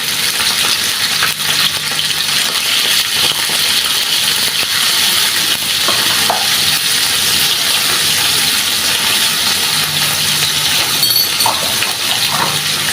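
Onions and chili powder frying in oil while being stirred, a loud, steady sizzle up close with occasional scraping and tapping of the spoon against the pan.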